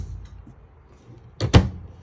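A single close microwave door clunk with a brief latch release, sharp and short, after a quiet stretch, inside a Haney Alpha Wolf 33BH-L travel trailer.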